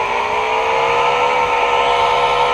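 A car engine in PUBG Mobile, played on a Samsung A52, drones loud and close while driving, a steady whirring hum with a faint rising pitch and no break.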